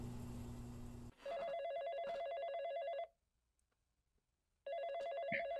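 A telephone rings in two clear bursts with a gap of silence between them, each a steady warbling electronic trill heard alone and fairly near.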